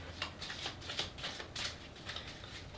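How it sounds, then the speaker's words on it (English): A deck of tarot cards is riffled and shuffled close up, giving a run of quick papery flutters in a steady rhythm of about six bursts, quiet with no talking. "Let's put these aside, shuffle the rest of the deck"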